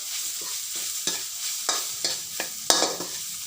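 Curry ingredients stir-fried in a pan, with a bright continuous sizzle and regular spatula scrapes about every half second, close and alone without speech.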